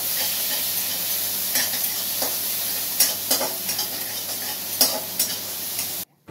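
Potatoes fry in a pan with a constant bright sizzle, while repeated scraping strokes of stirring come through close and clear for several seconds before a sudden cutoff.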